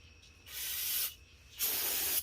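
Brake cleaner sprayed onto the rear brake of a 2018 Honda Accord in two bursts, a sharp pressurized hiss lasting about half a second, a brief pause, then a second slightly longer blast, close and fairly quiet.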